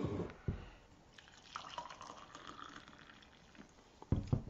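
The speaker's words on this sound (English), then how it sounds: "I gotta pour coffee." Coffee pours into a cup in a soft, continuous liquid trickle with a few drips. It is quiet and close, bracketed by brief clunks of the pot or mug.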